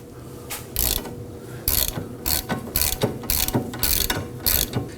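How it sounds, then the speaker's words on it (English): A ratchet fitted with a 17mm socket loosens a rear control arm bolt on a 2005-2009 Subaru Legacy, giving close, loud bursts of rapid clicking in repeated strokes, each separated by brief pauses. "We're going to use our 17mm socket on our ratchet here."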